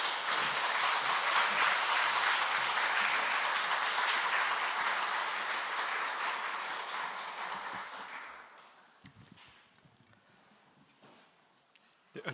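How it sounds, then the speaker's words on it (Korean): An audience at a Sunday afternoon church seminar claps to welcome a lecturing professor, a dense, loud burst of applause that keeps going for several seconds and then thins out and fades. "박수로 환영하도록 하겠습니다."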